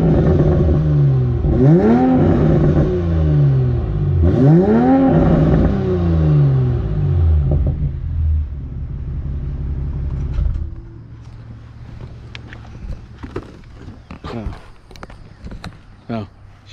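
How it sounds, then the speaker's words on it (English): A Toyota Supra engine revs in deep rising and falling sweeps, loud and close, then settles to a low idle rumble with scattered clicks. "But the car still sounds good"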